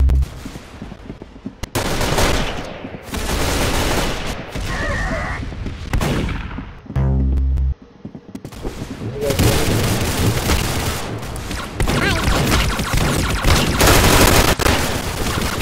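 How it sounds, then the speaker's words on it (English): Machine gun fire in the Roblox video game, loud rapid bursts that stop and resume across the stretch with short pauses, close up, with some talking mixed in. "She has a machine gun"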